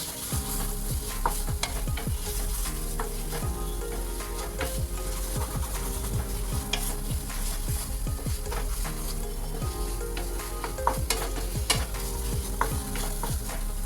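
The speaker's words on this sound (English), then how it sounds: "I'll cook the masala for 30 seconds on a high flame." Steady, close sizzling of masala frying in a hot pan on a high flame, with frequent scraping and stirring clicks throughout; no one speaks.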